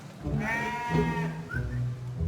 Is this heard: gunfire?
no